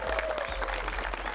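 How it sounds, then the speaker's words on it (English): A short burst of applause from a live show audience, steady clapping throughout, fairly faint and a little distant. "Round of applause, Wretch, guys."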